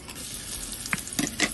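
Chopped onion, ginger and garlic sizzle in hot oil for an everyday Indian tempering, with a steady frying hiss broken by a few sharp spoon scrapes and stirring clatters near the end.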